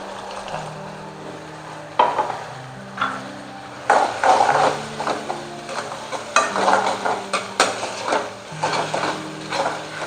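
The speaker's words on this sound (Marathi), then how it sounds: "आता थोडा वेळ मी सॉस जे घातले त्यामध्ये भाज्या थोड्याशा 5 मिनिटं परतू देणार आहे" Vegetables sauté with soy sauce and vinegar for Manchow soup, a soft continuous sizzle broken by repeated scraping stirs and utensil knocks against the pan. No one speaks.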